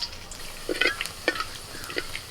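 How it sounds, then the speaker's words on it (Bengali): Whole spices (dried red chillies, bay leaves, cardamom, cinnamon, cloves and cumin seeds) crackle in hot oil for tempering, heard as faint, sparse pops and short sizzling bursts with no talking. "এবার আমি ফোড়ন দিচ্ছি শুকনো লঙ্কা তেজপাতা এলাচ দারচিনি লবঙ্গ গোটা জিরে"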